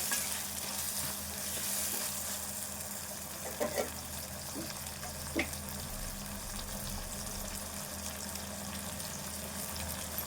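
Tomatoes cook in a pan for a prawn curry and get stirred, a steady low sizzle running throughout with a few soft scraping strokes from the spoon, close and fairly quiet.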